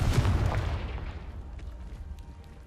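Explosive Confringo spell blast in Hogwarts Legacy, a loud booming hit up front that decays into a fading rumble with faint crackles.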